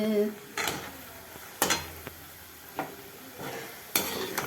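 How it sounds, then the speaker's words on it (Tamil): Wheat biscuits fry in hot oil in a home kitchen, a soft bubbling sizzle underneath sharp scrapes and taps of a metal spoon stirring against the pan at irregular intervals. "எண்ணெயை காய வச்சுருக்கேன் பொரியுது பொரியுது எண்ணெயில் பொரியுது"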